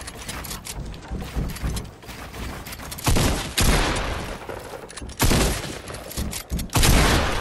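Gunfire in Fortnite, loud and close: repeated heavy shotgun-like blasts in irregular bursts, separated by short gaps of clatter and movement.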